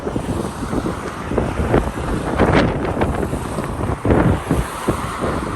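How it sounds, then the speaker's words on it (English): Strong wind batters the microphone in loud, rumbling gusts while crossing Trinity Bridge in Saint Petersburg, over a faint wash of water in the background. "Kind of windy."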